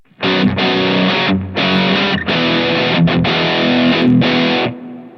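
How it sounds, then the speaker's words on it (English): Heavily distorted electric guitar chords played through a distortion pedal into a tube amp, loud and saturated, several sustained strums with brief gaps between them. "a good distortion pedal going into a good tube amp"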